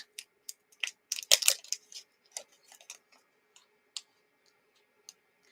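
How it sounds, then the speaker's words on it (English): Keys on a cordless computer keyboard tap in an irregular burst of light plastic clicks, clustered at first then thinning to scattered single presses, close and fairly quiet with no talking. "Still this cordless keyboard."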